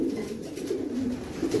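A pigeon visiting a loft coos softly and steadily in a low, throaty murmur, close by, with no talk over it.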